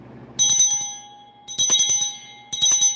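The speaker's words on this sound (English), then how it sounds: "I'm going to ring the bell again." A small bell is rung in three separate bursts of rapid ringing, each a bright metallic jangle that fades before the next begins, close and fairly loud with no talking.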